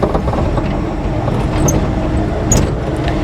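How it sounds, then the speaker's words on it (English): Low, lumbering engine rumble from a 1955 Chevy Nomad with a manual gearbox, bogging down at low RPM, with faint clicks and squeaks over the steady drone. "As you hear the motor start to power down, it needs a little bit more RPM"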